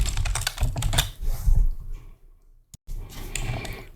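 A computer keyboard clatters in a quick run of close keystrokes while someone types a terminal command. The keys go quiet briefly and then resume with lighter tapping.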